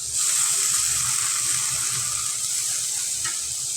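Dried loitta fish curry with chopped coriander simmers and is stirred, a steady close hiss of bubbling, sizzling liquid with faint soft stirring underneath, no talking.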